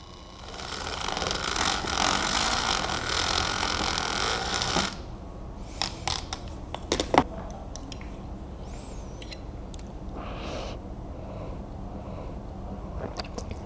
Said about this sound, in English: I'm gonna start doing this and like so I can really whisk in the soy milk as it goes